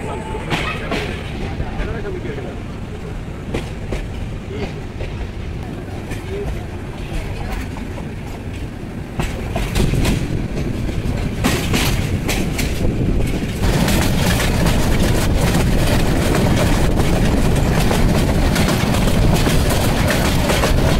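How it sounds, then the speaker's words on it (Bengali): A passenger train pulls out of Dhaka Airport railway station with a continuous heavy rumble and rattling clatter that swells louder about halfway through and stays strong, heard from on board or very near. "5 মিনিটের বিলম্ব শেষে সকাল 10:35 ট্রেন ছেড়ে গেল ঢাকার বিমানবন্দর রেলওয়ে স্টেশন"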